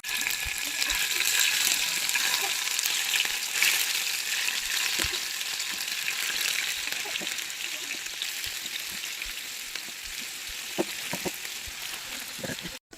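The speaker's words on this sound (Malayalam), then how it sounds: "നല്ല തിളച്ച എണ്ണയിലേക്ക് ഇട്ട് കൊടുത്തു കേട്ടോ" Pepper, garlic and turmeric marinated fish fries in hot oil, giving a loud, continuous close sizzle with scattered pops and crackles.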